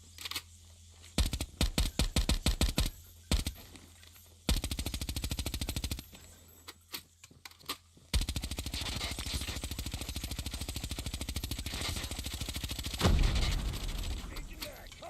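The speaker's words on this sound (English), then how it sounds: "I'm gonna use all 240 rounds on you, Yammy." Submachine gun fire in a shooter video game comes as sharp rapid bursts, then a long sustained stream of automatic shots, loud and close, ending in a heavy blast-like burst with a decaying tail.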